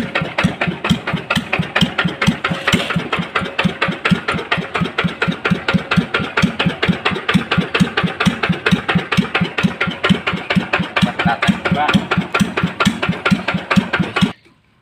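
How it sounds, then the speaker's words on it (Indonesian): A Kubota KND 220 diesel engine, just serviced for white smoke caused by oil getting into the combustion chamber, idles with a loud, close, evenly paced chugging knock that runs steadily until it stops abruptly. "mari kita coba diesel Kubotanya yang kemarin kita servis ya"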